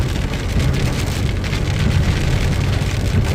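Sudden rain pours steadily onto surfaces, a dense even hiss with a low rumbling undertone, loud and continuous with no voices.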